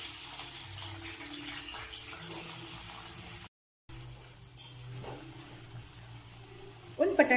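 Water is poured into a pot of potatoes for boiling, a soft steady rush with a brief break partway and a faint splash near the end.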